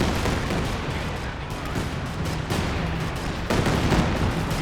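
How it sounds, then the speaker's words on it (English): A Katyusha rocket artillery barrage in Company of Heroes 2 pours down as a dense, continuous roar of rapid blasts and crackling impacts, loud and unbroken, with a fresh surge of detonations toward the end. "Comes the Katyusha barrage. Oh, there's just so much artillery."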